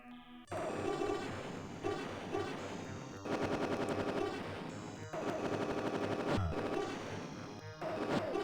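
Dense, continuous rapid-fire shooting from the DOS space shooter Galactix, loud blasts and zaps layered over music and game effects, with brief pauses between bursts.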